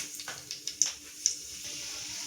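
Quiet, steady sizzling of hot oil with a few sharp crackling pops bursting through, close by, as cumin and fenugreek seeds splutter in the oil.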